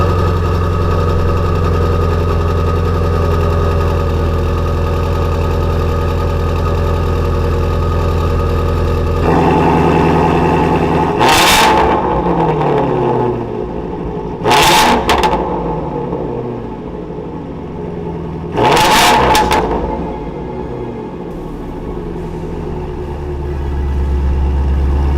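A 2020 Ford Mustang Shelby GT350R Heritage Edition V8 idles loudly with a deep steady rumble, then gives three sharp throttle blips that rise and fall at a few-second intervals before it settles back to a lower idle.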